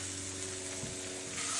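Brussels sprouts sizzle steadily in a hot pan, a continuous crackling hiss up close with no talking.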